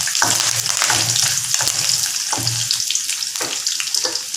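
Garlic and curry leaves frying in a pan for a stir-fried oyster mushroom dish, a close, steady sizzle with scraping stirs of a spoon and no talk.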